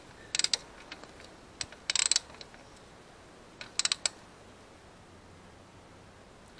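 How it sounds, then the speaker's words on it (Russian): A socket ratchets tight an aluminium oil drain plug on a Yamaha Majesty 250 scooter, giving quick bursts of sharp metallic clicks in short clusters separated by pauses, close and fairly quiet with no talking. "Я даже подтяну, наверное, головочкой, потому что не вижу смысла здесь применять ключ."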